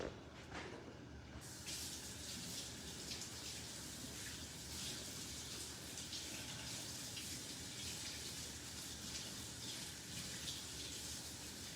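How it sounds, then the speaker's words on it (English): Steady running tap water pours continuously while hands are washed during homemade gnocchi pasta preparation, a faint, even hiss that begins with a short drip-like onset and runs to the end without talk. "I'm going to wash my hands real quick."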